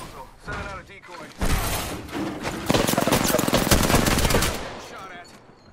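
Rapid automatic gunfire in the video game Apex Legends rattles loud and close in sustained bursts, mixed with thuds and game effects while a voice talks over it.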